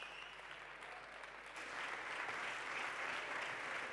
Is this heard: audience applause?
yes